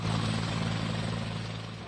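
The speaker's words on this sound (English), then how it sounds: "security opted for the presidential chopper" A presidential helicopter flies close and loud, its steady rotor and engine drone continuous with a slight fade toward the end, no voices present.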